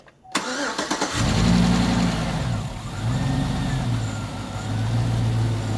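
A car engine cranks and catches, then settles into a steady mid-pitched idle after a power steering pulley installation, with a faint rhythmic rise and fall in the running note and no talk.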